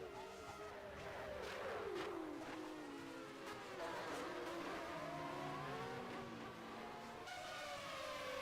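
A 1990 Formula 1 car is driven hard around Interlagos in the rFactor racing game, its engine screaming loud and close, the pitch climbing and dropping through gear changes with brief tire squeals.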